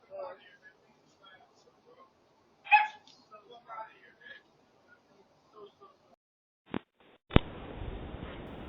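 A dog barks at a front door, picked up by a doorbell camera: a few sharp, scattered barks come amid people talking, ending in a loud burst of noise.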